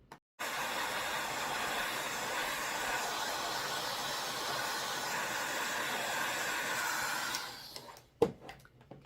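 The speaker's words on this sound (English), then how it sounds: "Let's blow dry this one and move on." Hair dryer blowing on a freshly painted upcycled treat jar, a steady close whooshing roar that switches on abruptly, runs evenly for about seven seconds, then cuts off, followed by a few light knocks and handling sounds.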